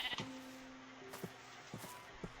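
A Minecraft sheep gives a couple of quiet, drawn-out bleats with short tapping hits between them, low in level and with no one talking.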